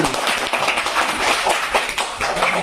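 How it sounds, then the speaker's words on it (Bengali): Children in a primary classroom clap their hands loudly together, a dense continuous patter of many overlapping claps with no voices. "ভেরি গুড, জোরে হাততালি।"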